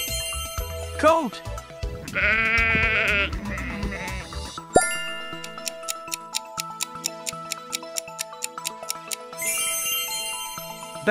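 A goat bleats once, loud and close, a wavering cry of about a second, followed by a steady ticking clock and a chime in a children's animal quiz.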